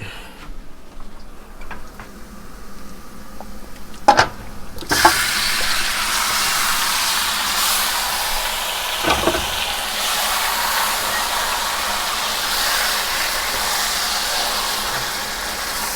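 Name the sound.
chicken frying with browned onions for biryani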